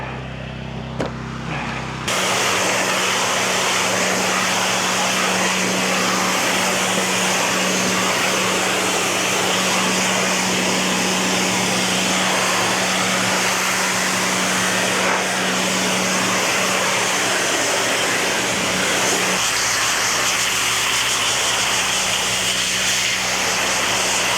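Power washer spraying water to strip a bedliner from a pickup truck: a loud, continuous hissing roar with a steady motor hum underneath, unbroken for over twenty seconds and close by.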